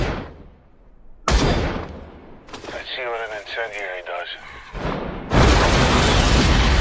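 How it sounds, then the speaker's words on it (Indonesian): Sharp, loud blasts erupt suddenly, separated by a stretch of rumbling and a warbling tone, ending in a sustained roaring burst. "terdapat sebuah jebakan yang mengakibatkan ledakan yang sangat besar"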